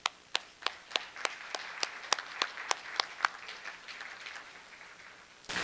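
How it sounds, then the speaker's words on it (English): Audience at a school board meeting clapping for students: a dozen or so sharp, separate claps in a loose, slowing rhythm, fading out before a brief louder burst at the end, with no talk over it. "let's clap for the students"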